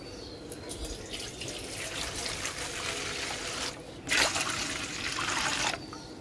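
Water poured into a bowl at close range, a steady running trickle that swells into a louder gush toward the end, with no talking.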